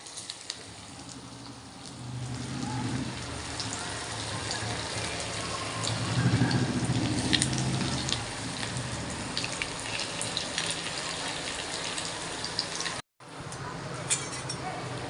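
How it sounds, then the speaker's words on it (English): Banana flower vada slid into hot oil to deep fry over a reduced flame, giving a continuous loud sizzle and bubbling that surges midway, with a person talking at times over it. "Now we'll slide the vada in the oil."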